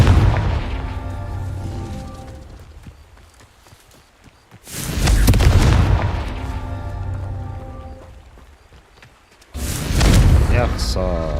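A Confringo blasting spell in the Hogwarts Legacy video game, two loud booming explosions a few seconds apart, each a sudden broadband burst that rumbles and fades, set against quieter game ambience with tonal music.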